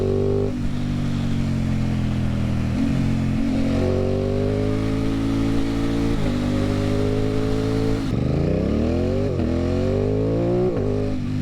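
An Aprilia Tuono motorcycle fitted with lightweight 16/45 sprockets pulls hard in second gear. The loud, close engine note climbs steadily in pitch, then jumps and rises again after a quick shift.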